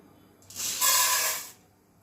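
Popcorn kernels drop into hot oil with a sudden sharp sizzling hiss that holds for about a second, then fades back to quiet.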